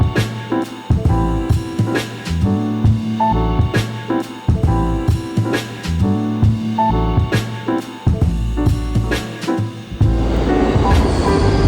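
A New York City subway train rumbles along, loud and close, with rhythmic clacking of wheels over rail joints and a rising rushing roar near the end.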